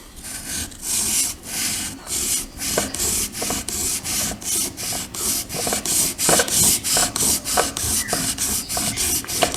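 A planer blade held at 25 degrees in a honing jig is rubbed back and forth on a sharpening stone, giving steady rhythmic rasping strokes roughly twice a second for several seconds, close and continuous.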